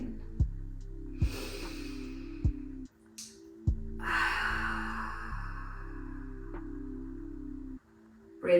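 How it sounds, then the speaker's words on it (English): Slow, deep breathing during a yin yoga session, with long audible inhales and exhales heard close up over a steady low hum, and no talk. "Breathing nicely and deeply into the body."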